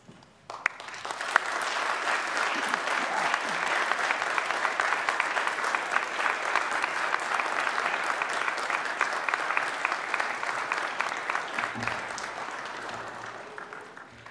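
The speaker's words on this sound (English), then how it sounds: "give them a big clap and cheer" Sustained applause with some cheering from graduands standing at a graduation ceremony, a dense steady clapping texture lasting over ten seconds before tapering off at the end.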